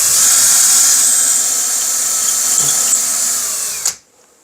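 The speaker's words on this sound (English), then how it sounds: "Let's drill it." A power drill boring a pilot hole into a joist whines steadily at high pitch for several seconds, then stops abruptly, leaving near silence.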